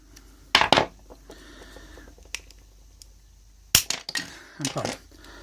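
Plastic pegs of a Dragon Stars action figure snapping as the figure is pried apart: a few sharp, close cracks and clicks spaced apart, with quieter handling noise between.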